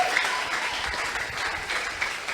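Church congregation applauding to acclaim the Holy Spirit during a French-language prophetic sermon, a steady, dense wash of clapping sustained throughout without a break.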